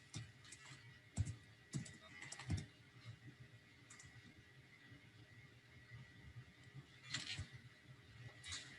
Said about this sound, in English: I can use a keyboard wedge to make this entry easier